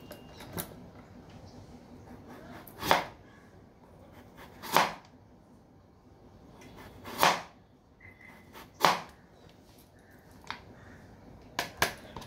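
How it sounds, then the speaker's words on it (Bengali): Knife slicing papaya thinly, several separate crisp cuts spaced a couple of seconds apart, each a short sharp stroke, close by with quiet between and a few lighter taps near the end. "ফালা করে নিয়ে খুব পাতলা পাতলা আমি স্লাইস করে কেটে নেব।"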